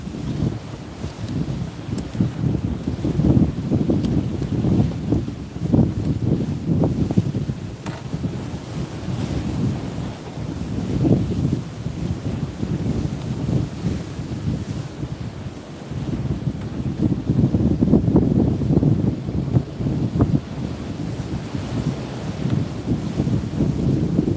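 Strong wind buffets the microphone on a seaside cliff on the California coast during shore rock fishing, a steady loud roar with gusts swelling and easing over the surf, no voices.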